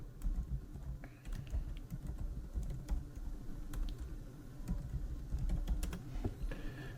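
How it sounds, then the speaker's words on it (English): Username and password typed on a computer keyboard, a quiet run of light irregular key clicks close by in a calm room, no voices. "I'm going to put in my username and password like normal"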